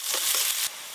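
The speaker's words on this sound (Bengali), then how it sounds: "মাছ রান্নার জন্য আজকে ফোড়নে দেব 2 তেজপাতা আর 1 গোটা জিরে" Two bay leaves and whole cumin seeds hit hot oil for tempering before a fish curry. A loud, bright crackling sizzle sounds up close and cuts down sharply near the end.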